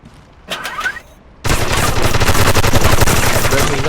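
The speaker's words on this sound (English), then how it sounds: "He's trying to shoot through the floor at the shadows." Sustained rapid gunfire in a competitive 5v5 shooter video game match as a player fires through the floor at enemies below, a brief burst first, then a loud continuous volley of rattling shots.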